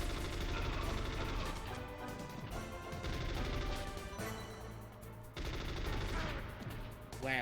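Gunfire and impacts sound in the Metal Gear Solid video game, as rapid bursts of shots and smashing hits over dense game music and effects, loud and continuous with brief drops.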